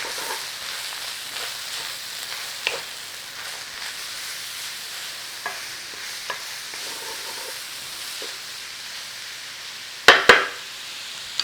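Cabbage, grated carrot, garlic and ginger frying in a pan: a steady close sizzle and hiss with faint stirring scrapes, then a couple of sharp clatters near the end.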